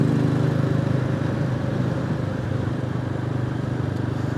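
A Royal Enfield Classic 350 motorcycle engine thumps steadily and close throughout a ride along a country road, a constant low rumble with wind noise and no pauses.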